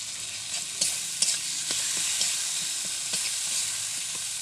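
Small fish frying in a pan with white mustard paste and chilli powder, a steady bright sizzle with occasional light clicks of stirring, close and moderately loud, with no voices.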